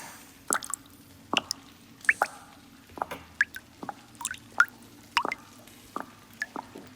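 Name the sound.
liquid being dripped in an ASMR roleplay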